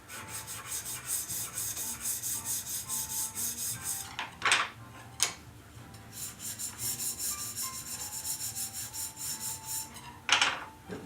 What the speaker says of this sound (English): The other way to do it, of course, is with your sandpaper.